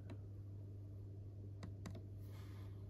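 Two quick plastic button clicks on a VDO G2V2 digital tachograph, close and faint, over a steady low electrical hum in a quiet cab.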